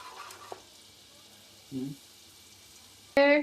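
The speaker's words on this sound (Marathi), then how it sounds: "बटर टाकलं आता." Butter hits a hot pan while butter chicken is cooked at home, giving a faint steady sizzle with a few brief clinks of utensils and a short sharp knock near the end.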